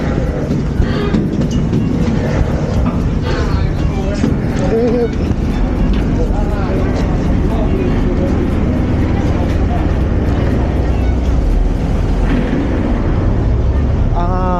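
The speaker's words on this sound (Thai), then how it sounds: "ของผมนั่งนี่มันเป็นเรือข้ามฟากครับ" A ferry's engine drones loud and steady while passengers board at a river crossing, a constant low rumble with faint voices mixed in.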